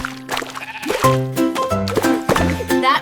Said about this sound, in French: Il bêlait bruyamment et remuait la queue